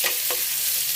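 Onions frying in a pan, a dense steady sizzle heard close up with a couple of soft stirring scrapes during one brief second and no voices.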